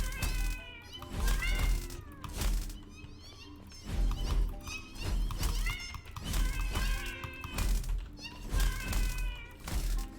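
Cats in a video game meow and caterwaul in loud repeated calls, close and insistent, spread through the stretch with no speech.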